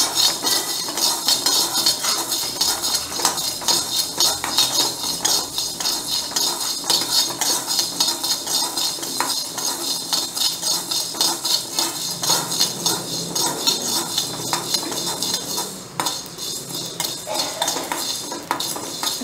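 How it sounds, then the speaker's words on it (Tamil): Spices dry roasting together in a kadai for ajwain (omam) kulambu, with steady close scraping and stirring of a metal ladle against the pan, clinking continuously throughout with no talk. "வடச்சட்டியில் ஒன்றா வறுத்தெடுத்துக்கோங்க"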